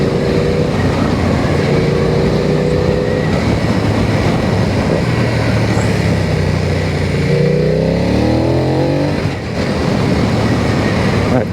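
A BMW F 900 R motorcycle with 105 horsepower and a quick shifter accelerates hard on hill roads, its loud engine note rising through the gears with brief shift dips, heavy wind roar throughout.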